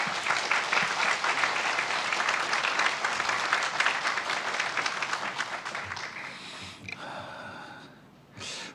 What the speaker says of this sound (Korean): 박수로 우리 환영하고